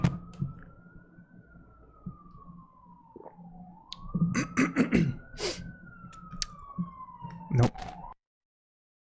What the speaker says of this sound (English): And there's an ambulance going by.